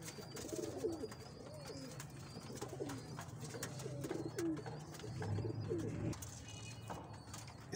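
Pigeons coo in repeated low, throaty phrases throughout, fairly close and steady, with faint chirps and background murmur, during a session of giving water and deworming medicine to pet pigeons.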